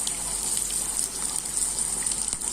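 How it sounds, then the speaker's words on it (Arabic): Water poured into a casserole for prunes, a steady faint trickling and splashing with a constant high hiss, no voices. "في كاسرونه نحطوا كأس من الماء"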